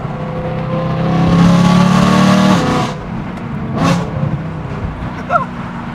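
A loud straight-piped BMW E92 M3 engine roars and revs hard near an underpass, then drops off and rumbles lower with brief bursts of throttle, recorded up close.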